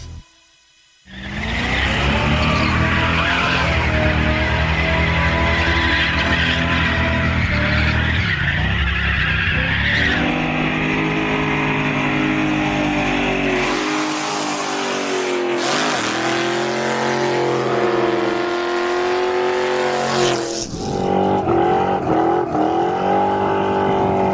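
A 1968 Dodge Charger rat rod doing burnouts, its engine roaring loud and close with sustained tire squeal and revving surges across the whole stretch, no talk.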